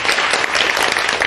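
Loud, dense applause from an audience thanking two lecturers after a Bible-figures talk, an even wash of many hands clapping close by without any speech.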